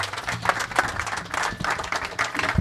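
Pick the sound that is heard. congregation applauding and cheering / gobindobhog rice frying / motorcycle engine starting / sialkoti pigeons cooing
congregation applauding and cheering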